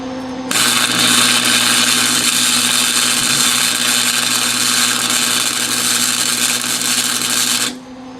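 Flux-core welding on an S10 anti-roll bar gives a loud, steady broadband crackle and buzz that holds for about seven seconds with a faint electrical hum beneath, then cuts off abruptly.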